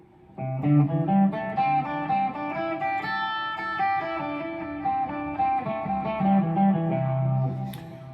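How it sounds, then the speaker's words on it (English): A melodic instrumental line of steady single notes over a sustained harmonic backing, moderately loud and continuous, with no talking. "the other option is to play pentatonics"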